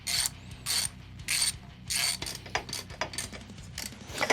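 Socket ratchet clicking rapidly while loosening bolts on a Harley Sportster, bursts of dense ratcheting clicks alternating with brief pauses, close and fairly quiet.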